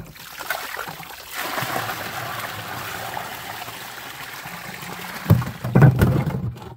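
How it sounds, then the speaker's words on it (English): Water dumped out of a dry well container beside a French drain, a steady outdoor trickling wash with a couple of louder splashing pours near the end. "Let's dump some of that water out."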